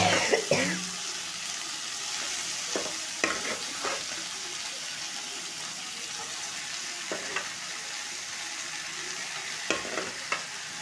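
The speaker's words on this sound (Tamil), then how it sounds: "இதை நல்லா கிண்டி விட்டுக்குருவோம்." Half a kilo of chicken for a salt curry sizzles and fries steadily in a pan, with occasional scraping clatters as it is stirred, close and continuous.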